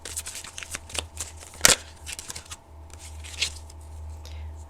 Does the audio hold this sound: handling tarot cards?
yes